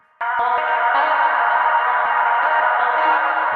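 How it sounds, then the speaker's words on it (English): A sustained synth tone washed in heavy reverb and delay, its repeats smearing together into a dense, continuous wash that never decays. "Too much reverb now."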